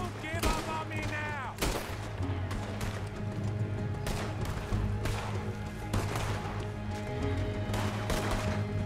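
Repeated gunshots in Red Dead Redemption 2 during a jailbreak shootout, sharp bursts fired in quick irregular succession over a steady low drone, with shouting voices mixed in.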